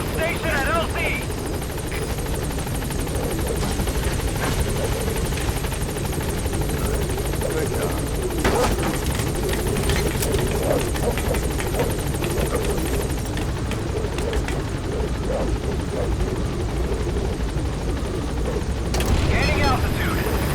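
A support helicopter in Metal Gear Solid V arrives at a landing zone, its rotor roar loud and continuous with thumping blades, while a radio voice talks over it.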